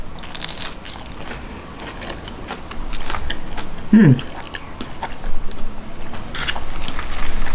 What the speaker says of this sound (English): We'll take a bite into this.